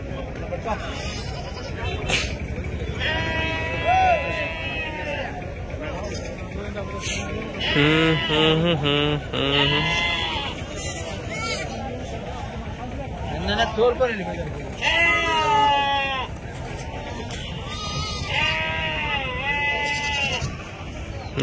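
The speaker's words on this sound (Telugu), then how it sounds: "చూడండి, ఇక్కడ మొత్తం 55-56 పట్టేళ్ళు ఉన్నాయి." Rams bleat repeatedly at a busy livestock market in Angallu, several loud calls rising over a constant crowd babble and nearby speech, some close and others farther off.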